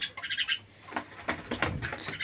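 Pet pigeons in their coop make quick bright chirps and soft fluttering bursts of wings, close by and moderately quiet, in short irregular clusters.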